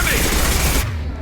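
Heavy gunfire in the Mass Effect 2 game, a loud dense burst of rapid shots and blasts that cuts off abruptly, leaving a low rumble.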